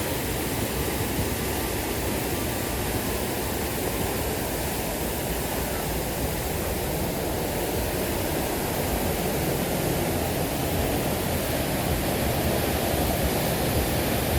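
The Biso Ella waterfall roars nearby, a dense, unbroken rush of falling water that stays steady and loud throughout.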